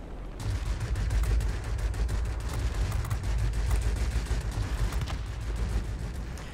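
Aircraft machine guns fire in the World of Warplanes game during an I-260 fighter sortie, a dense, continuous rattling burst layered over a deep engine rumble, loud and sustained throughout with no talk.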